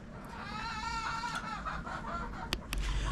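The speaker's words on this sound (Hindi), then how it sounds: "तो अभी मुर्गियों को दाना डाल दिया, मुर्गियों ने दाना खा लिया" Several hens cluck and murmur softly close by while eating grain, with a few sharp pecking taps toward the end.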